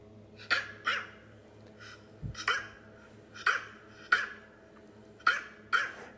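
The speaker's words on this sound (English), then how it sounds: "That's a dog saying, hey, humans, feed me." A Morkie dog barks repeatedly to be fed, sharp close barks in irregular bursts of one or two, with a low growly huff in between and quiet pauses.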